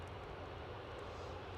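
An airliner moving at Edinburgh Airport, a steady low engine roar and rumble heard from a distance, with no speech and no change in level.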